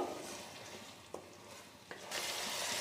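Masala for egg spinach curry, with ginger-garlic paste and salt, sautés over medium-low flame in oil, a gentle steady sizzle with a couple of faint spatula taps before the frying swells louder.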